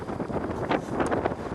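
Strong wind gusts across a lake on a fishing trip at Lough Erne, buffeting the microphone with a steady, loud roar and rushing surges throughout, with no voices.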